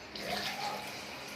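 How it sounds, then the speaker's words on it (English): Water runs steadily into flitter batter for Jamaican flitters, a soft continuous pouring splash close by with no talk. "Add some more water."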